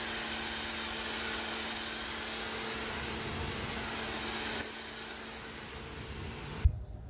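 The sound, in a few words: DGIVOVO pressure washer spraying with green nozzle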